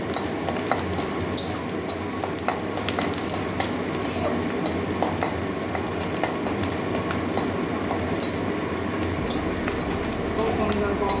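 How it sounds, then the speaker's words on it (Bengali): Onions fry with coriander powder in a pan, giving a steady close sizzle with frequent scraping and stirring clicks from a utensil, continuous throughout, while a voice talks over it. "এবারে একটুখানি ধনে গুঁড়ো পেঁয়াজের সঙ্গে ভেজে নেবো"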